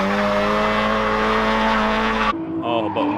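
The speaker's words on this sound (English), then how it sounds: "It sounds like there's one that's supercharged." A supercharged Miata drifting on a desert track at night, engine droning steadily at high revs with supercharger whine, then abruptly easing off into a quieter idle with faint voices nearby.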